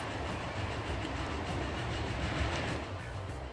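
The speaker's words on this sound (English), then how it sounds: "let's go ahead and follow this train on its final journey" A train in the Transport Fever simulation rolls steadily along the rails, a continuous close rumble with faint clickety-clack from the wheels, heard alone without talk.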